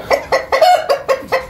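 Brahma chickens cluck in six short, close, evenly spaced bursts on a hot day on a farm, sounding slightly strained.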